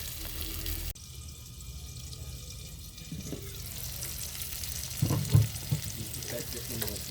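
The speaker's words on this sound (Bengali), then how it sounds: "চিংড়িটা ভুনা করে নিচ্ছি। মাটির পাতিলে চিংড়ি ভুনা" Prawns being dry-fried bhuna style in a clay pot for a spinach dish, giving a steady sizzle with stirring scrapes and a few louder clatters near the end, no talking.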